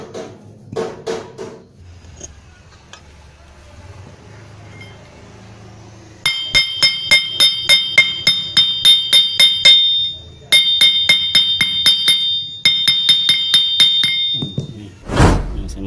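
A metal nail pin is hammered into a stripped bolt hole in a Yamaha F1ZR motorcycle piston block, giving bright ringing metallic taps in fast regular runs. Brief talking can be heard at the start.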